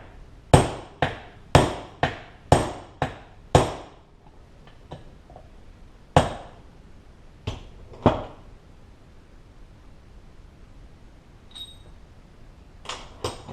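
A bushing driver is hammered into a part while rebuilding a 4L80E automatic transmission: a quick run of about eight sharp metallic blows, then scattered single strikes with pauses between them, close and loud.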